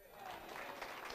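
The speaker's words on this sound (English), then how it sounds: "There's a spontaneous applause cue coming." Brief, fairly faint burst of audience applause at a morning awards breakfast, a smooth wash of many hands clapping at a steady level with some crowd murmur mixed in.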